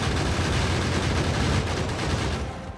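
Sustained gun turret fire in Factorio on a deathworld map, a dense, continuous volley of rapid shots pounding away at worms, loud and steady throughout before tapering slightly at the end.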